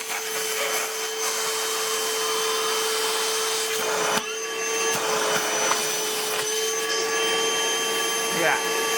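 A Milwaukee Gen 2 wet/dry shop vacuum runs steadily with a loud, high whine and rushing airflow, with small bumps and rustles as plastic is held near the nozzle, while a person talks over it.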